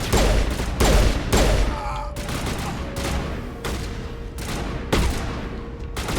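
Repeated bursts of weapon fire in Mass Effect 1, loud and close, coming in several rapid volleys separated by brief pauses, with a faint tonal hum between them.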